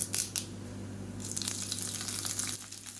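Mustard seeds, urad dal and curry leaves fry in hot oil with a steady crackling sizzle, sharper bursts of spattering near the start and again midway, no voices.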